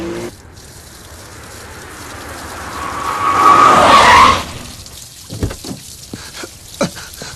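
A car revs up and pulls away, a rising engine and tire rush that swells loud and close for a few seconds before cutting off, followed by scattered knocks and clunks.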